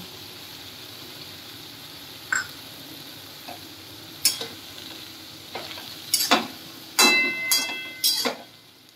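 Green chilies tossed into a hot pan of pumpkin greens with matar dal, giving a steady low sizzle with scattered scrapes and sharp utensil clicks building toward the end, close and with no talking.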